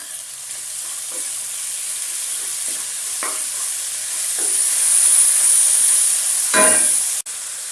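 Chicken feet being stirred with thick soy sauce and white pepper in a hot pan, a steady sizzling hiss with scattered scraping stir strokes, growing louder toward the end.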